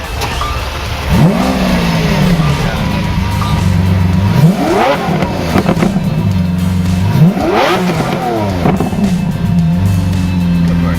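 A powerful Lamborghini engine idles, then revs hard twice in loud rising and falling roars, close by, settling back to a rumbling idle between.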